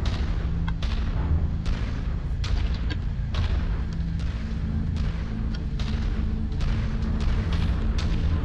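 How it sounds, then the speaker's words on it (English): Long Tom artillery firing in MechWarrior 5, a series of booming shots at irregular intervals over a constant loud rumble of game engine and ambient noise. "I'm gonna get on this hill where I can shoot my artillery more effectively."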